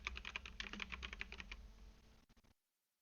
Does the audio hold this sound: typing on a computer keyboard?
yes